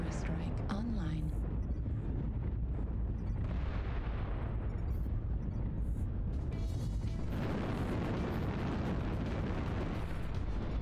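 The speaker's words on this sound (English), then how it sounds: "Artillery strike online." Heavy artillery strike explosions in the MechWarrior video game, a sustained roar of blasts and booms filling the whole stretch with rumbling bursts, while a voice talks over part of it.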